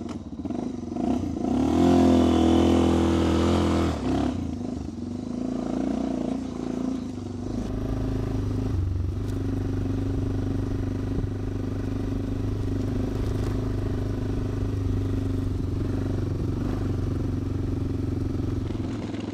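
A Suzuki motorcycle pulls away in the Moroccan desert: a loud rev and clattering start, then a steady low engine drone as it rides off, with no talk.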